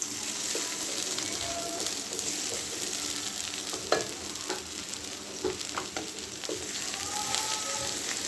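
Onion frying in mustard oil, a steady close sizzle with scattered light taps and scrapes from stirring, moderately loud and even throughout, no speech.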